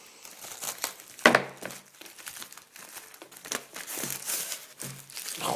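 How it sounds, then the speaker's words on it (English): Plastic wrap is ripped and crinkled off an Apple Wireless Keyboard box after being slit with a knife, giving a close, busy run of crackling, tearing rustles with one sharper snap near the start. "Take the plastic, rip it off."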